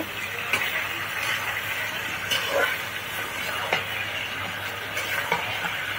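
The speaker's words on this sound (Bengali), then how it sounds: "এখন বেগুন আলু আম্মা ভালো করে কষিয়ে নিবে।" Eggplant and potatoes sizzle steadily in a hot pan while being stir-fried, with a constant frying hiss and periodic scraping of the spatula, close by.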